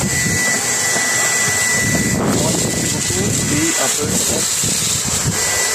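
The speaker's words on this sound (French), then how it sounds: "je l'enlève avec l'aspirateur. Désolé pour le bruit." A vacuum cleaner drones loudly and steadily up close, clearing coffee grounds from a De'Longhi Magnifica Start coffee machine, its whine mixed with rattling and shifting noises as it works.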